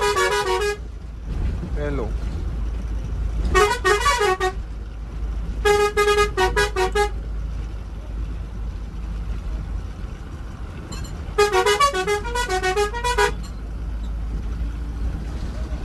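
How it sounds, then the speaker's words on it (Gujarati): Several different musical horns fitted on a travel bus blare in turns, long melodic tooting bursts separated by pauses, loud and close over steady engine rumble, with a person speaking briefly between them. "ગાડીમાં આપણે જુદા જુદા લાલભાઈ હોરન પણ ફિટ કરેલા છે"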